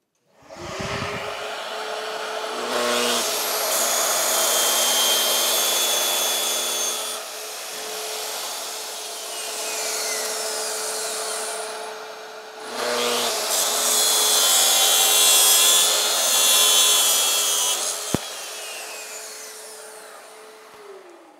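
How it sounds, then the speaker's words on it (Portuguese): A circular track saw with a dull blade cuts through wood. It is loud and close, with a steady whining motor that surges and strains through two long cutting passes and then spins down, and no one speaks. "eu estou com uma serra bem ceguinha já, ó, mas a gente tem um corte limpíssimo"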